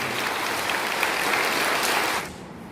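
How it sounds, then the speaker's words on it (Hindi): Enthusiastic applause from an audience at a Bible quiz prize ceremony in Bokaro, a dense, steady clatter of many hands that carries on strongly before fading down near the end; no voices. "पुनः हम एक साथ सबों के लिए जोरदार ताली बजा देंगे"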